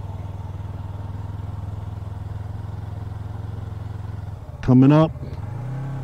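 A motorcycle idles steadily, then its engine revs sharply upward for about a second as throttle is applied, nearby and loud, settling back to a higher idle; someone speaks briefly.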